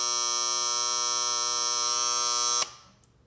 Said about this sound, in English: they give you a buzzer